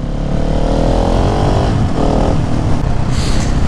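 A Husqvarna 701 or Beta RR 125 motorcycle engine revs loud and close while being ridden, holding a steady drone with rising pitch and a brief throttle change partway through, under wind rush.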